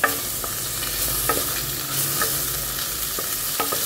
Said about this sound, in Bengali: তেল গরম করে পেঁয়াজটা দিয়ে দিয়েছি